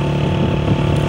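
A motorcycle being ridden, its engine droning loud and steady at close range with a continuous rough hum and no pauses.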